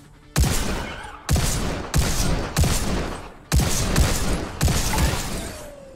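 Gunfire rings out in a video game: six loud, sharp shots in an uneven rhythm, each a sudden blast with a long, fading roar of echo, close and without talk.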